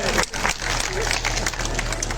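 Crowd clapping at a political rally in Jhunjhunu, a dense, steady wash of applause with babble underneath, continuous for about two seconds.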